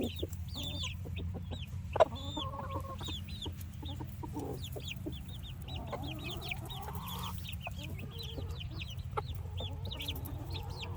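A mother hen clucks softly near her chicks in a backyard coop, repeated low clucks and chick peeps over a steady outdoor hum, with no talking.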